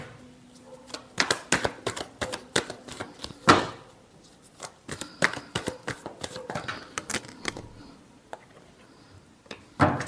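Tarot cards are shuffled close by in quick, irregular riffling flurries of crisp snaps and slaps, with a louder burst near the middle and a softer patch toward the end.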